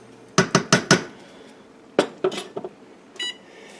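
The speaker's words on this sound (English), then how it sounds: "So just give it a stir, quick scrape on the bottom" A spoon scrapes and knocks against a pot of chili verde green chili stew in a quick run of four sharp metallic strokes, then a few more after a pause, with a short electronic beep near the end.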